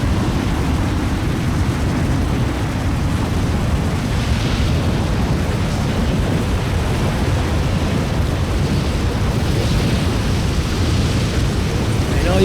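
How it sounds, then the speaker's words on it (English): A tornado tears across a farm in the video game Farming Simulator 25, a loud, steady, unbroken roar of dense low rumble and wind that fills the whole stretch without letting up. "Man, it is just destroying everything around it."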